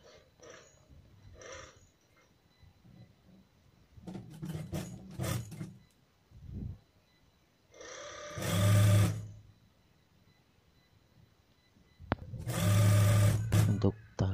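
Sewing machine stitching a fabric strap, 35 cm long and 5 cm wide, for a travel hijab; loud bursts of machine running around 4–6 s, 8–9 s and 12–14 s, separated by quieter handling noise and faint talk.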